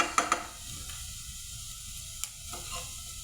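Garlic fries in a pan with a soft, steady sizzle and hiss, broken by a few sharp crackles and stirring scrapes.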